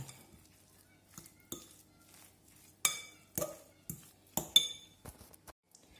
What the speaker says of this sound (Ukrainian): І все разом перемішаю